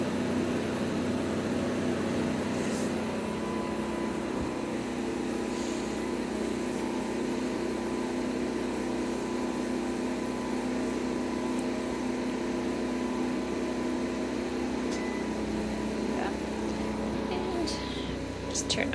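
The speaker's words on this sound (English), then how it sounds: "So we just heard the generator kick over with a load." An RV generator on a 2021 Forest River Sunseeker 2860DS running under load with the air conditioning on, a steady droning hum throughout with voices faintly over it.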